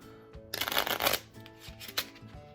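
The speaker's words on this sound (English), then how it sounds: "I haven't done this kind of shuffle for about as long as I've been out of practice for" A Theory Eleven Artisans playing card deck is riffled and shuffled close by, a dense burst of crisp card flutter followed by lighter snaps and taps, with soft background music underneath.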